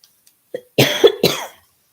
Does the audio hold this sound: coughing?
yes